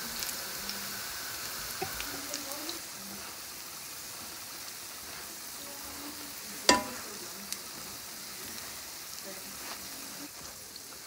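Potatoes frying in a pan: a steady, quiet sizzle with faint stirring clicks and one sharp tap partway through, with no talking.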